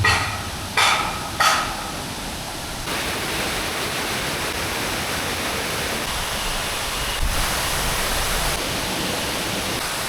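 A waterfall in the hills near Araku roars as a steady, even wash of noise, with a few sharp knocks at the start.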